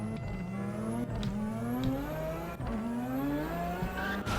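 A video game car engine in Roblox Vehicle Simulator revs with rising and falling pitch sweeps, loud and close, with no talking over it.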